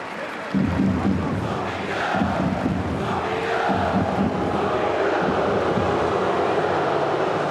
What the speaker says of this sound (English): Listen to the crowd's reaction.